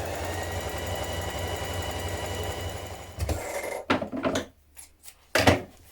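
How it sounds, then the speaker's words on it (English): A sewing machine ease-stitching around the top curve of a sleeve for an unlined winter coat, Butterick 6244, hums steadily for about three seconds, then stops and gives way to a few clunks and fabric handling noises. "Now ease stitch around the top curve of the sleeve."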